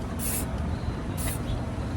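Aerosol primer spray can spraying plastic car trim, two short hissing bursts close by over steady background rumble.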